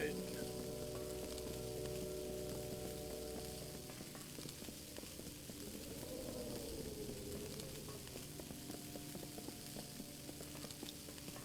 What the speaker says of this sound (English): Am I seriously just gonna sound like eggs being cooked on a frying pan constantly now?